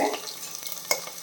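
Chopped small shallots hit hot coconut oil for a chicken curry, giving a brief, steady sizzle and frying crackle with light stirring, close by and moderately loud, with no voices.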